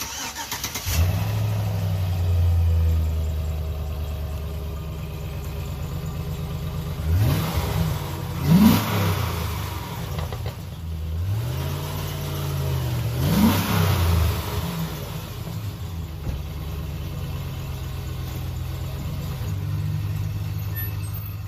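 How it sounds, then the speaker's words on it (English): A 2005 Chevrolet Silverado with its stock exhaust cranks and starts, settles into a low idle, then is revved twice in rising and falling swells before dropping back to a steady rumble. "this will be your before exhaust stock engine sound"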